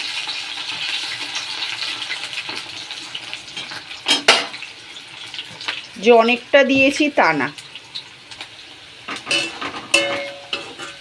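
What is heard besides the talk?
cauliflower and onion frying in hot oil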